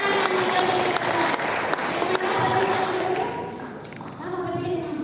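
Church congregation at an Alor ethnic culture month Sunday service applauding together, a dense steady wash of clapping filling the space, with crowd noise and voices mixed in, easing slightly near the end.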